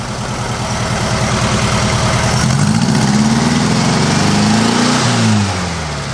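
Air-cooled engine of a 1956 VW Beetle, running and being revved, a loud, steady close-up drone that rises in pitch midway, holds, then drops back toward idle near the end.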